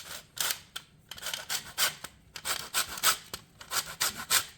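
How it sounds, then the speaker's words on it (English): A lime grated over a grater for a clafoutis, producing repeated close rasping strokes in an uneven rhythm, fairly quiet, with brief pauses between strokes and no talking. "we're going to grate a lime in it"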